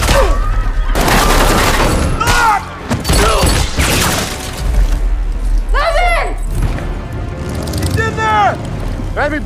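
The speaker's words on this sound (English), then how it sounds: "Hearing this, Levon shoots and kills him." Gunfire in an action-movie shootout at a trap house, sharp loud shots and bursts mixed with a booming score, shattering and voices shouting over the action throughout.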